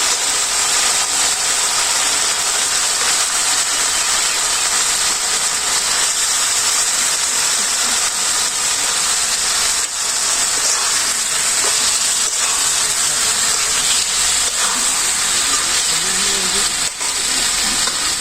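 Chicken meat sizzles in hot oil in a pan during village cooking, a steady bright frying hiss that continues evenly throughout, close and fairly loud, with faint scraping in the background.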